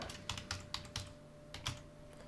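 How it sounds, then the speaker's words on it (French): Keys on a computer keyboard are tapped in short irregular bursts of close, crisp clicks, with a quiet steady hum beneath and no talking. "si je tape la marque, donc là je vais taper Peugeot, je tape 403 Colombo,"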